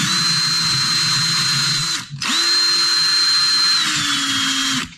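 A power tool runs with a steady high whine as it grinds on industrial labeling tape. It stops briefly near the middle, spins back up at full strength and keeps running close and loud until it cuts off at the end.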